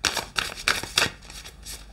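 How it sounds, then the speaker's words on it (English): Tarot cards being shuffled by hand, a quick run of crisp riffling bursts followed by softer sliding shuffles, close up with no talking. "Let's just shuffle again."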